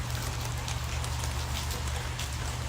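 Light drizzling rain falls steadily on a garden, a soft continuous patter with scattered drops, close and even throughout with a low hum beneath.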